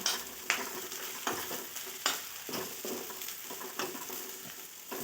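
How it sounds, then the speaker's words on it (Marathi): Finely sliced val bean pods being stirred with masala in a pan, a soft continuous sizzle broken by repeated scraping strokes of a spoon about every half second, fairly quiet with no talking. "आता हे छान मिक्स करून घ्यायचं आहे मसाला लागला पाहिजे सगळ्या शेंगांना"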